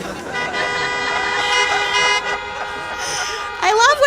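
Car horns honk in short, overlapping toots outside, several cars joining in with bright tonal blasts over a continuous busy backdrop.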